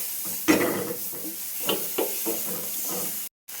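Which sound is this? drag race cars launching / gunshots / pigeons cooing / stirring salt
stirring salt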